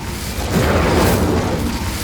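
Incendio fire spell cast in Hogwarts Legacy, a loud roaring whoosh of flame that swells and holds through the whole moment without a break.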